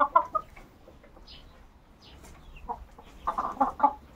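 Chickens clucking on a backyard poultry run in summer heat, a few short bursts of cackling at moderate distance, louder near the start and again toward the end, with quiet yard ambience between.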